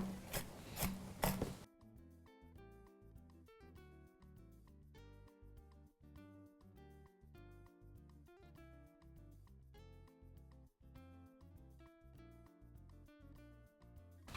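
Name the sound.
knife chopping unsalted dry roasted peanuts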